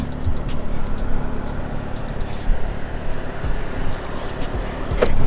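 Deep, steady exhaust note of a BMW M2 with a repaired exhaust, free of rattles; a continuous low rumble that swells louder in the final moments.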